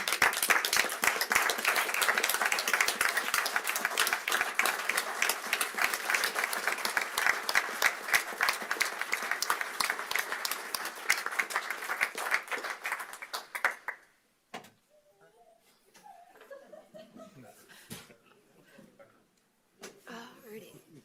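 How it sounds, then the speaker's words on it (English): Applause from the audience at a Kalispell city council meeting as people stand, dense steady clapping for about fourteen seconds that ends abruptly, followed by quiet room sounds and scattered faint noises. "please stand and give them a round of applause for what they've done"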